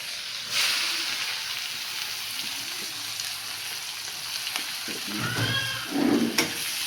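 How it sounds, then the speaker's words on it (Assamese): Onions fry in oil in a pan for a fish curry with dried red chillies, giving a steady broadband sizzle, with a few brief stirring scrapes and a louder burst near the end. "পিঁয়াজটো ভালকৈ ফ্ৰাই কৰি ল'ম।"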